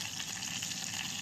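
Mustard seeds, dal and Kashmiri red chilli sizzle in hot oil for tempering, a steady bright crackling hiss with no pauses, close and moderately quiet, no voices over it.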